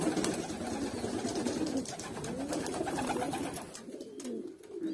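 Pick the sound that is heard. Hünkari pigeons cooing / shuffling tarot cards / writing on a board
Hünkari pigeons cooing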